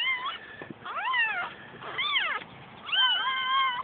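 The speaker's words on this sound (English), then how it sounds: "It's gonna sound like kittens." Kittens meow in high, thin cries, four separate calls with short pauses between, close and clear with no talking.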